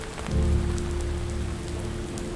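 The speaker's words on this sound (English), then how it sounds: "Thunder started cracking above us and it started raining." Steady rain falls during a thunderstorm on a trail, a dense even patter on surfaces that swells briefly early on and then holds at a constant, moderately loud level with no voices.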